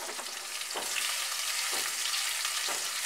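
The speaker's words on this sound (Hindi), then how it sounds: "लाइट गोल्डन होने तक फ्राई कर लेंगे।" Onions sizzle and crackle steadily in hot oil, with a few soft stirring scrapes breaking the even hiss.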